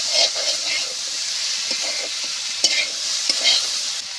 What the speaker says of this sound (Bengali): এবার আমি ঢাকনা খুলে আলুটা একটু নেড়ে চেড়ে নিয়ে